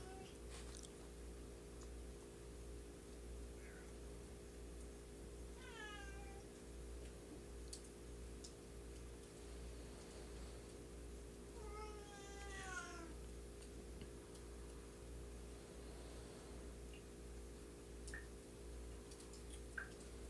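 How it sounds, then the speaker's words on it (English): A wounded stray cat meows indoors, two or three distinct drawn-out cries spaced several seconds apart, faint and somewhat distant over a steady low electrical hum, with no talking. "And he's meowing because he wants to go out."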